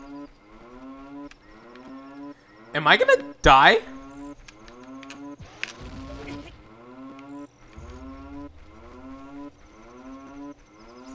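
A cow in the video game Ocarina of Time moos repeatedly in a steady series of low, drawn-out calls. A short burst of louder sound and a brief spoken question break in partway through.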